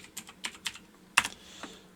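Light, quiet typing on a computer keyboard: a handful of separate key taps, then a sharper double click, with no one talking.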